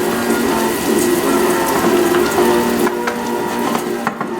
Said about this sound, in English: And then I'll add my chicken stock and water, and then I'll add the portobellos.